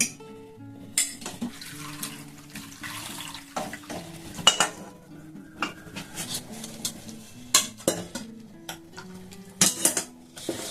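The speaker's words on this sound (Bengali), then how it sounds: "তো এখন এখানে আমি ছেঁকে নেব।" Chhena curdled with vinegar is strained, with running and pouring liquid, clinks of utensils against a pot and a low steady hum beneath. The clatter comes in irregular bursts and is heard close, with no talking.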